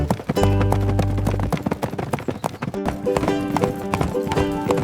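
A donkey's hooves trot pulling a cart in a quick, steady clip-clop rhythm, close and clear, with a musical backing running underneath, in an animated nursery rhyme.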